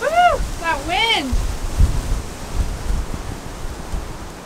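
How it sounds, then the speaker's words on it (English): Strong gusts of wind buffet the microphone on a hike in Mills Canyon, a broad roaring rush that swells and fades after a few whooping voice calls at the start. "That wind!"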